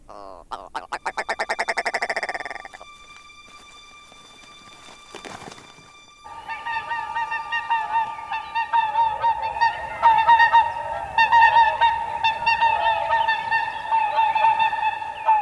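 Whooper swans call with loud, resonant honking notes, first a short rising series, then after a brief pause many overlapping trumpet-like calls in an ongoing chorus, close and clear.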